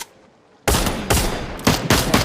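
Gunfire in a video game, a burst of loud shots starting abruptly after near silence, then repeated heavy blasts in a rapid uneven rhythm, with no talk.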